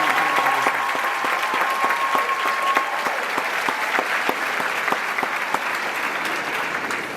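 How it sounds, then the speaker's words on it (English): Steady applause from a graduation audience honoring an absent valedictorian, a dense wash of many hands with some distinct nearby claps standing out, continuing evenly for several seconds. "Please give a round of applause in absentia for our valedictorian"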